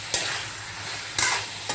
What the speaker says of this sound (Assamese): এতিয়া মই এইখিনি ধুনীয়াকৈ এবাৰ লৰাই দিম।